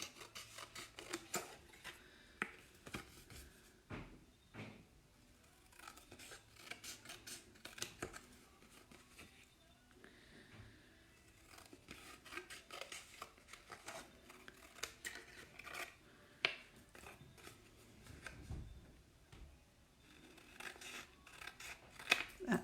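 Scissors trimming an A6 card template down to leave a narrow white border: quiet, close snips and paper rustles come in irregular bursts over a faint background. No voices.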